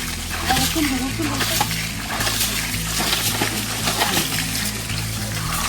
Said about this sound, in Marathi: हे मासे उड्या मारायला सुरुवात झालेली आहे माशांची